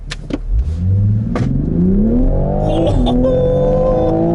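A 2019 Toyota GR Supra A90 with a BMW B58 3-litre engine of about 340 horsepower revs up loudly, its pitch climbing steadily as it accelerates, with a brief shift midway before pulling on strongly.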